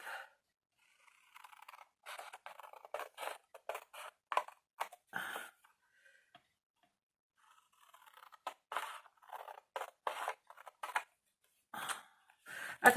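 Scissors snip through folded paper for a green candy-dish craft, in two bursts of short crisp cuts separated by a quiet pause, close and fairly clear with no talking.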